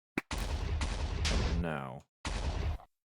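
Loud booming blasts go off in quick succession in a Minecraft SevTech Ages Twilight Forest boss fight, sharp and close, with a short spoken word between them.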